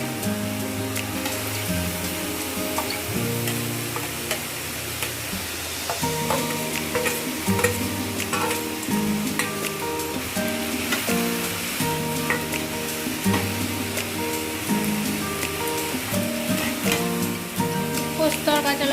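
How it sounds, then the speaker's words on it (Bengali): Water lily stems mixed with turmeric sizzle loudly in a frying pan for a Bengali poppy-seed dish, with continuous frying hiss and repeated scraping strokes of a spoon throughout. "হলুদ দিয়ে ভালোভাবে মিক্সড করে নিচ্ছি শাপলাটা"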